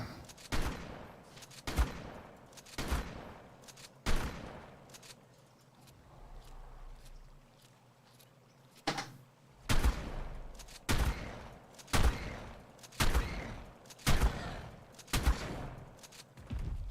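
A shotgun fires again and again in Ark Survival Ascended, a dozen or so sharp, loud blasts spaced about a second apart, with a short quieter gap midway before the shooting resumes in a steady rhythm.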